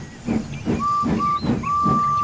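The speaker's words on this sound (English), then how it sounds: "So the fireman lit the fire and made a nice lot of steam. Then the driver pulled the lever, and Edward puffed away." A model steam locomotive lets off steam and puffs away in a regular rhythm of hissing chuffs, about one every half second, with a thin sustained whistle-like tone running alongside, close and fairly loud.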